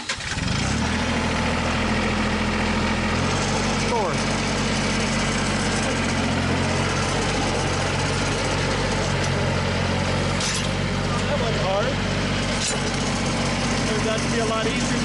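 A vehicle engine starts and then idles steadily in thick mud outdoors, a loud, close, continuous rumble throughout, with voices talking over it.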